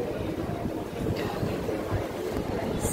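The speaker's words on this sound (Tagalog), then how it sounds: "So windy." Strong wind roars and buffets at an outdoor bar during dinner, a steady rushing noise battering the microphone for the whole stretch.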